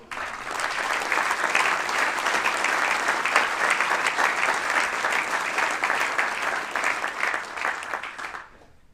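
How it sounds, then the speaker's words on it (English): An audience at a golf awards presentation claps in sustained applause that stays at an even level for several seconds, then fades out. "Give him a big round of applause."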